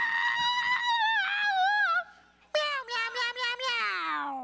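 A person imitates a cat, giving a series of drawn-out, wavering meows, close and loud, with a short pause before a final run of rapid meows ending in a long falling one.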